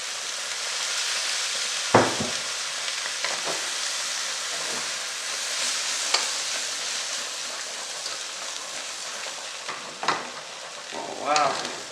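Chicken and spaghetti frying in a pan as soy sauce goes in, giving a steady hissing sizzle with a few sharp clatters and stirring knocks scattered throughout.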